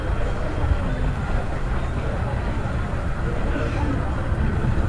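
A Guangzhou Metro Line 1 train at a station, heard as a steady, loud broadband rumble and hiss of rolling stock without clear breaks.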